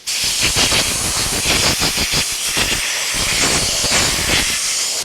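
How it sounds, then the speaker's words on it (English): Loud close bursts of compressed air hiss against a natural guitar finish in repeated short pulses and longer blasts, with no talking. "We need to find some compressed air."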